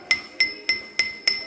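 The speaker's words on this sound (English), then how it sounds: "That's the sound of a stone which is relatively okay," A stone is tapped with a hammer five times at a steady, even pace, each close, sharp strike leaving a clear, bright ringing tone that decays between hits.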